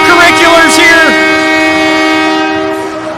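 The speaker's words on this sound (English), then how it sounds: "you can probably hear that air horn from miles away" A loud, sustained air horn blast at a high school game, a rich multi-tone blare that holds steady for a few seconds before slowly fading.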